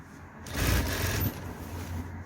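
A sewing machine stitching a suit sleeve during alteration, a short close mechanical whir that swells and then fades into a low hum.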